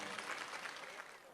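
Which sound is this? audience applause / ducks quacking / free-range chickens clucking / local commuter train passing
audience applause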